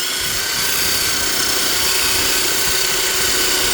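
A cordless screwdriver grinding a meteorite stone gives a steady, loud, high whirring motor drone with broadband grinding hiss that runs unbroken and close for the whole stretch, with no voices.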